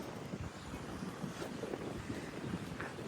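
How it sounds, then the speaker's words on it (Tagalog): Strong wind buffets the microphone in a steady, loud rumble that continues through the whole clip, with no voices. "Lakas ng hangin ah."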